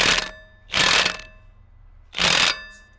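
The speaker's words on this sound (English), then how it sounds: "I need a wrench because it's slipping on the back" A wrench ratchets in three loud, grinding bursts during repair work on a Ferris wheel, each lasting about half a second with brief pauses between them.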